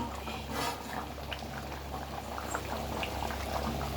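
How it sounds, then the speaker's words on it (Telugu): A covered pot of Andhra-style fish curry (chepala pulusu) simmers steadily, giving a continuous close bubbling boil with soft liquid pops throughout and no talk. "ఒక 10 నిమిషాలు సిమ్లో పెట్టుకుందాము, మూత పెట్టి."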